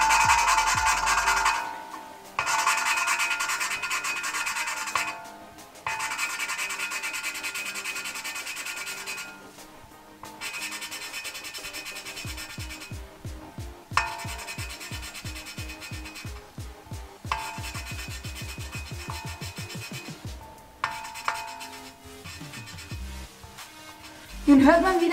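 Rhythmic back-and-forth grinding of an engine valve being lapped into a cylinder head with grinding paste, repeated scraping strokes in bursts with short pauses, close and fairly loud.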